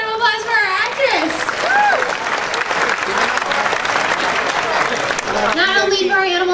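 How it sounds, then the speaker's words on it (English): A crowd at an animal actors show at Universal Studios applauds steadily throughout, with brief whoops and cheers rising over the clapping near the start and end. "Have a round of applause for our actress."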